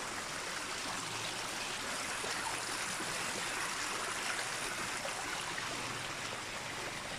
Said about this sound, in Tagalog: Kadungog ko sa kasika sa tubig.